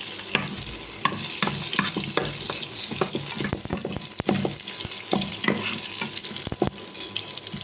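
Crushed garlic frying in oil for egg gravy, a steady sizzle broken by frequent sharp stirring clicks and scrapes of a spoon in the pan, close and fairly loud, with no talking.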